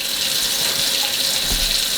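Cold water runs steadily from a kitchen tap over raw chicken being rinsed in a sink, a continuous close hiss and splash with no talking.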